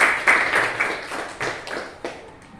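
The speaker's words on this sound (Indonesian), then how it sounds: "tepuk tangan, luar biasa" A short burst of clapping from a group during an Islamic religious lesson, with crisp, overlapping claps that thin out and fade over a couple of seconds.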